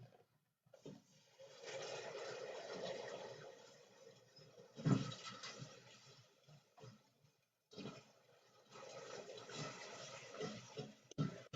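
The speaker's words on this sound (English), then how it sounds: "I'm gonna whisk this vegetable broth in." Vegetable broth is poured into a flour mixture while being whisked, giving a steady splashing, swishing liquid sound in two long bursts with a brief pause between them, close and moderately loud.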